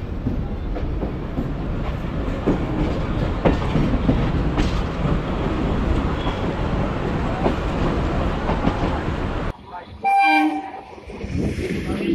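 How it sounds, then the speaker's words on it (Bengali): Local commuter train departing Sealdah station in Kolkata, bound for Diamond Harbour: a steady, loud rolling rumble of wheels and carriages for about nine seconds, then a sudden drop and a short burst of brighter, tonal noise near the end. "পুরো 10টা 38 বাজে এবং টাইম মতো আমাদের ট্রেনটা ছেড়ে দিল শিয়ালদা থেকে।"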